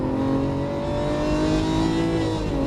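A Lamborghini Aventador accelerates hard on a race track, its engine roaring loud and close with a steady, rising note and no voices.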